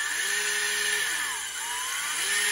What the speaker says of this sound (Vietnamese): Rồi cái đó là khoan có búa nha, khoan thường nè.